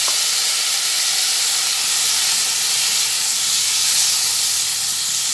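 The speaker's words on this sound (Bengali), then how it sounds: "একদম গ্যাসের ফ্লেমটা কমিয়ে নিয়ে সব একসঙ্গে ভেজে নিচ্ছি" Potatoes and other pieces fry in oil over a low gas flame, making a loud, even hiss and sizzle that holds steady without pauses or voices.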